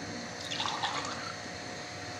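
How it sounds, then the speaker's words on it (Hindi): Water trickles and splashes steadily as a little is poured into a thickened soya chaap masala gravy that already has milk in it, a soft continuous liquid sound. "इसमें मैं थोड़ा सा पानी और ऐड करूँगी इस तरह से"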